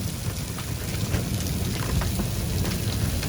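Pea- to marble-sized hail pelts a roof in a dense, continuous roar of tiny impacts, loud and steady with no voices.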